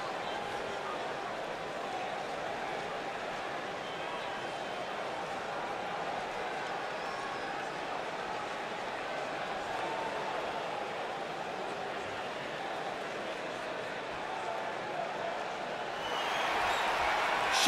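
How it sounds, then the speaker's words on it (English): A virtual arena crowd in the wrestling video game WWE 2K19 roars steadily throughout a women's one-on-one match, a constant dense murmur that swells louder near the end. "And Michael, it sounds to me like this crowd already picked the one who they want to win this match."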